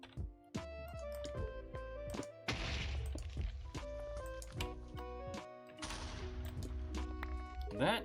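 Explosions in the Minecraft video game: two broad, rumbling blasts over steady in-game music, with scattered sharp knocks and thuds between them.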